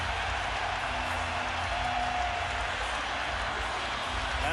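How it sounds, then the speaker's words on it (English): A basketball arena crowd at a Spurs vs Lakers playoff game sends up a steady, far-off roar of cheering and murmuring that fills the whole span, with a commentator's voice faintly beneath it. "Now this crowd reacting"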